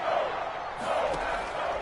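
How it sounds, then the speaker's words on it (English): A stadium crowd roars steadily in an American football video game ahead of a big third down, a dense, sustained wash of cheering with no distinct voices. "The crowd getting into it as we come up on a big 3rd down"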